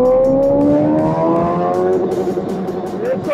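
A Suzuki Hayabusa motorcycle accelerating hard in first gear, its loud engine note climbing steadily in pitch as it revs up close.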